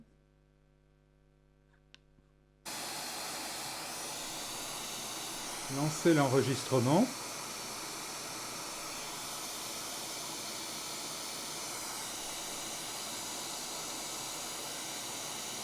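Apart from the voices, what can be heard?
white noise test signal played for camera microphone test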